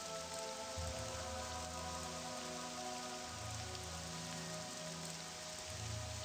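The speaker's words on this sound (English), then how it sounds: "Damn it with the rain, dude." Steady rain in the video game Morrowind, a continuous dense hiss of falling drops pattering on surfaces, even and unbroken throughout with a low rumbling bed beneath.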